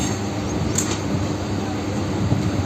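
A Kolkata Circular Rail local train runs between Majerhat and Burrabazar, giving a steady, loud rumble of wheels and carriage noise heard from inside the moving coach, with no clear voices.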